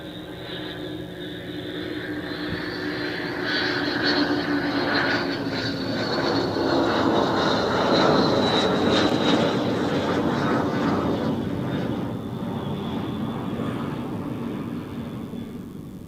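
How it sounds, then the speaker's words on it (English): A Cessna Citation business jet lands at Zurich Airport, its engine roar swelling as it passes overhead, loudest midway, then slowly fading, heard from a distance with no talk. "What do we have first? Cessna Citation."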